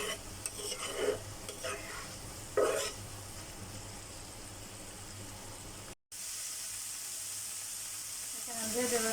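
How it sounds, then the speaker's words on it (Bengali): Meat sizzles and is stirred in a hot pan while being browned for a homemade noodle dish, a steady close frying hiss with scraping, a brief cut partway, then louder sizzling. "মাংসটা একটু ভাজা ভাজা করে নেবো"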